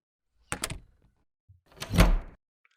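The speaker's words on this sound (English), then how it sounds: "lock the door over here" A door being locked gives a pair of sharp close clicks, then after a short pause a heavier thunk as the door is latched, heard alone against silence.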